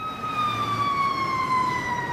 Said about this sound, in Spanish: Estamos oyendo, sí, las sirenas indicando que se aproxima hacia acá una motobomba.